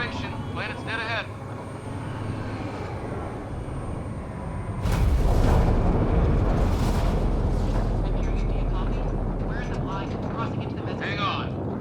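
A spacecraft's atmospheric entry in a video game: a steady engine hum under a voice gives way to a sudden loud roaring rush of buffeting air and rumble that holds to the end, with radio-style voices and chirps over it.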